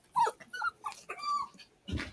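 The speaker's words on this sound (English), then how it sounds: "my dog is here" A dog close by gives a short run of whimpering yips and whines, a few quick high cries in about two seconds with no talking.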